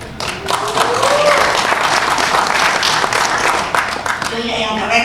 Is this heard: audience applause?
yes